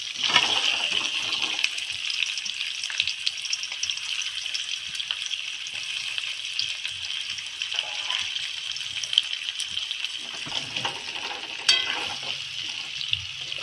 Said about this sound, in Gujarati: હવે તેલ ગરમ થઈ ગયું છે. હાલો બટેટા નાખી દઈએ.